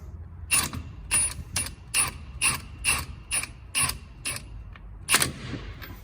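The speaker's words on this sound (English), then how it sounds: "Still 17mm head, so just a quick once over with a gun." An impact gun runs down 17mm wheel bolts on a Mk4 VW Golf 4motion fitted with adapters and spacers, nine or ten short loud rattling bursts in a steady rhythm, close by, with no talk.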